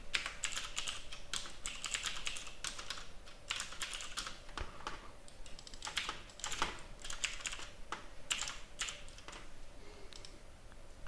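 Code being typed on a computer keyboard comes through as quiet, irregular bursts of crisp key clicks with short pauses between runs, close by and with no speech.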